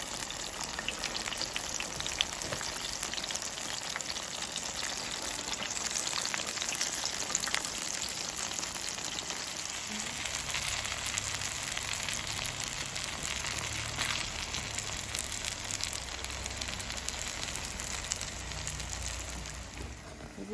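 Jamaican saltfish fritters fry in hot oil, giving a continuous, even crackling sizzle like light rain that stays close and steady throughout, with no talk.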